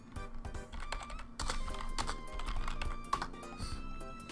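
Dense, loud computer keyboard typing, close to the microphone, with a continuous run of clicking keystrokes over faint background music.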